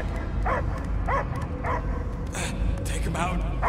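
Dog barking in Marvel's Guardians of the Galaxy video game, several short yips and barks in a steady run amid game music and ambience.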